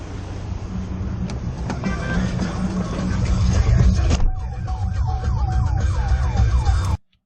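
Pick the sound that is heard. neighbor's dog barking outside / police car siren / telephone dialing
police car siren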